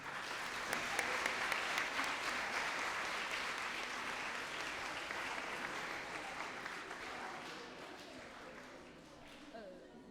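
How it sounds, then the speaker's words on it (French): Sustained applause from an audience honouring pupils at a school travel-journal prize ceremony, a steady dense wash of many hands lasting the whole stretch, fairly distant and slowly thinning toward the end. "je crois qu'on peut les applaudir"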